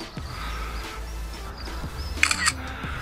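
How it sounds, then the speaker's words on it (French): Simulated camera-shutter click from a phone taking a screenshot while controlling an Eachine E58 foldable drone, a brief bright double click near the end over a low background hum. "Je vais faire une photo d'écran."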